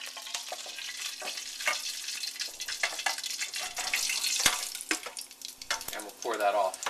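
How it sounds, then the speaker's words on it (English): Hot oil pops and sizzles in a pan while fried shrimp are lifted out to drain for a home-style Chinese stir fry, steady crackle with a brief water-like splash near the end. "I let the oil drain. Popping it a little bit."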